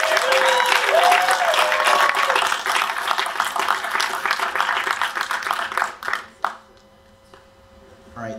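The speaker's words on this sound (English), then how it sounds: "can we get some applause for the Hope staff" Audience applause at the HOPE 2018 hacker conference, a loud sustained burst of clapping and crowd noise that tapers off, with a few last scattered claps before quiet.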